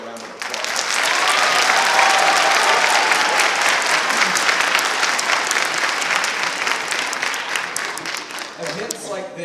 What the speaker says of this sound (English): So if you would give your child's music teacher one more round of applause.